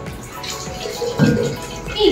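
Water is poured into a jug during a jug-filling challenge game at a birthday celebration, a short splashing gush that swells twice close to the listener with a little background talk.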